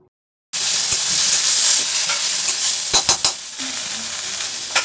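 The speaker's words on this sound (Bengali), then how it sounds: "পেঁয়াজ দিয়ে দিতে হবে। এটা ভাজার পর একটা হালকা গোল্ডেন কালার যখন চলে আসবে" Sliced onions frying in hot oil in a pan for a chicken and pointed gourd curry, a loud continuous sizzle with a few scraping stirs of a spatula partway through, no voices.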